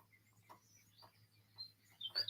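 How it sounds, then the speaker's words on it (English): Faint birds sing far off outdoors, giving a few scattered, thin chirps and whistles over a low steady hum. "And off in the distance, you can hear other ones also singing."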